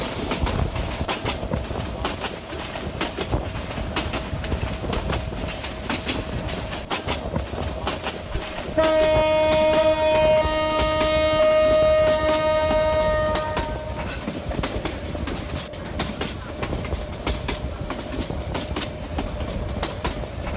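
A train in the Train Sim Bangladesh video game rumbles along with steady clickety-clack of wheels, while a loud sustained horn blast sounds midway for several seconds.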